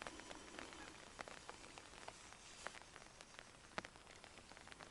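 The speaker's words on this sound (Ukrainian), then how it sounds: "А дощик моросить і моросить, не перестає." Light drizzle falls over a wild lake, a soft, steady patter of scattered drops with occasional louder taps, faint and continuous.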